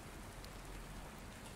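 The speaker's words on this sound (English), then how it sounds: "In the cruel and cold, heavy rain." Heavy, cold rain falls outside a door as a faint, steady hiss of drops that carries on evenly throughout, with no voices.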